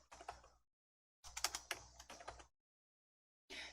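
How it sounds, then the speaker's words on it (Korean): Keys clatter on a computer keyboard as someone types a search term into a browser search box, coming in three short bursts of rapid tapping with silent gaps between them, close and fairly quiet. "검색 상자에 픽사베이라고 적으실게요"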